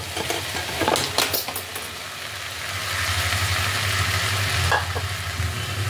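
Fried chicken tumbles into a hot pan and is stirred, clattering scrapes at first, then a steady loud sizzle that swells and holds close by, with no talking.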